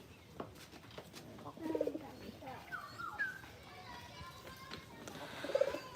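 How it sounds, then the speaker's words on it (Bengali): Soft coos of pigeons and pigeon chicks come in short bursts, with children's voices and light background activity around them. "ওই দেখুন কবুতরের বাচ্চা কবুতর"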